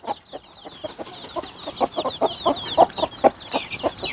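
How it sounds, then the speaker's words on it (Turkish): Several broody hens, a heritage laying breed, cluck in short, rhythmic bursts close by while their mixed chicks peep in high, thin chirps throughout. "Burada da şimdi tavuklar çıkınca gurk gurk sesleriyle civcivler birbirine karıştı."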